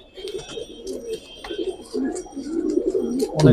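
Giribaz pigeons coo softly in low, rolling repeated calls, close by, with a chatter of other birds and a brief flutter near the end in a pigeon market setting.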